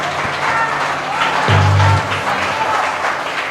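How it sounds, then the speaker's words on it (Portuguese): A church congregation applauds after a closing prayer, a steady wash of many hands clapping at moderate distance, with a low sustained tone swelling briefly underneath midway through. "Pode aplaudir ao Senhor."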